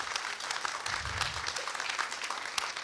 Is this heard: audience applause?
yes